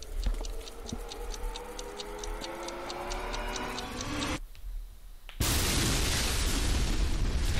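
An exploding zombie in Lollipop Chainsaw: a steady ticking countdown, a brief silence, then a loud, sustained blast with a roaring, crackling tail.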